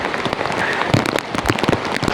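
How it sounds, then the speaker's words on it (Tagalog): Heavy rain pours down by a river, a dense hiss of drops with scattered sharper splashes and patters throughout, steady and close. "Yan, oh, lakas ng ulan."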